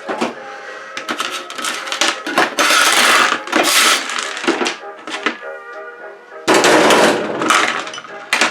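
Metal parts from a dismantled old time clock clattering and rattling as they are tossed into a pile, a loud jumble of clinks, jangles and crashing bursts with brief pauses between throws.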